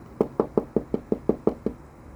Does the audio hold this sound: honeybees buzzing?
no